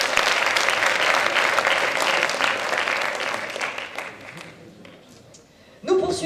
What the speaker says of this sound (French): Je voudrais pour autant que nous les applaudissions,